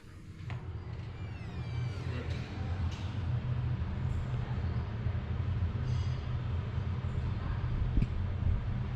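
A train station in Turin: a steady, loud rumble of rail traffic and station bustle, with faint metallic squeals rising now and then, and no clear speech.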